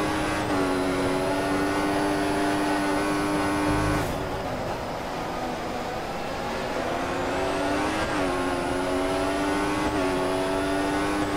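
A Formula 1 car in the F1 2014 racing game at night at Bahrain, its engine a loud, sustained high whine. It shifts gear with brief dips and climbs back up repeatedly.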